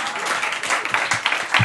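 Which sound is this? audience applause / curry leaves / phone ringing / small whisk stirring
audience applause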